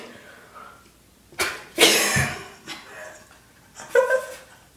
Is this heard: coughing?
yes